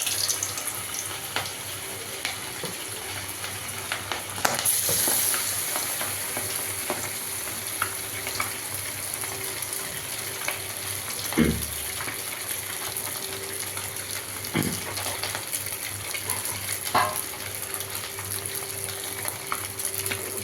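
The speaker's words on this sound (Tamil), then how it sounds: "நம்ம கலந்து மசாலா தடவி வச்ச மீன் அப்படியே எடுத்து எண்ணெயில் போட்டோம்." Masala-coated fish pieces fry in hot oil for a fish 65 dish, making a steady close-up sizzle and crackle with a few louder pops and clatters.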